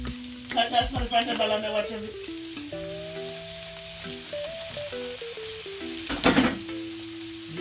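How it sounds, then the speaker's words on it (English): Tomato goes into a hot pan for Jamaican tinned mackerel and ackee, with stirring and crackling sizzle at close range under musical tones and brief bursts of louder clatter. "I'm adding my tomato"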